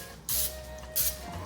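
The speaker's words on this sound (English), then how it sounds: "Now you can give it a light spray" Cooking spray from a can misted onto a cupcake tin for baking, two short hissing bursts in a quiet kitchen.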